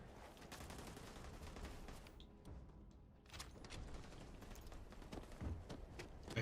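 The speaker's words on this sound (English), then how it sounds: "I think my AK might be set up to be a burst shot." AK rifle firing in the video game Starfield: rapid, repeated gunshots in quick bursts, dense and continuous, with a short pause midway, heard without talk.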